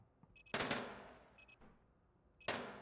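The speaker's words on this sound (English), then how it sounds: "9mm doesn't sound very scary" Gunfire from a 9mm weapon in the Iceberg map of the video game Arena, heard as two sharp, loud shots about two seconds apart, each with a decaying tail, with faint clicks between them.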